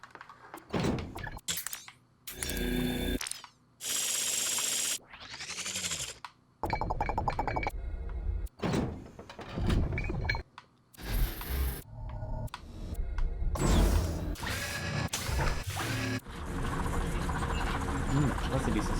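Mechanical sound effects from the Project Spark video game, a string of clunks, thunks, whirs and clinks in bursts, loud and close, with someone talking between some of them.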